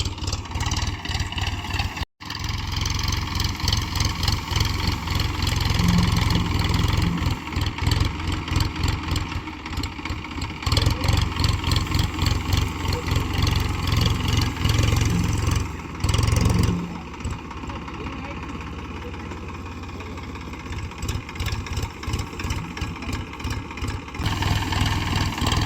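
A tractor engine runs steadily while the tractor sits buried and stuck, with a low, continuous near chug and occasional revving surges, and no voices.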